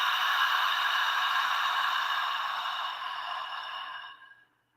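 One slow, breathy exhale during a breathing exercise, a soft airy hiss held steadily for several seconds before fading to silence.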